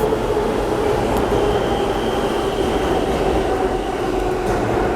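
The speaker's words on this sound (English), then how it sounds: "I'm walking in just as the train is arriving." A New York subway train pulls into a station with a steady, loud rumble and roar that holds evenly throughout, and no voices are heard.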